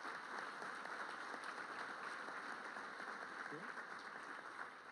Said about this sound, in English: About a round of applause for them,